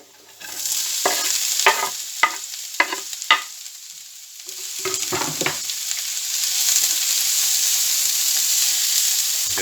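Onions, peppers and chilli sizzle steadily in a hot pan while a spoon scrapes and stirs them in several sharp strokes, then a continuous frying hiss carries on alone.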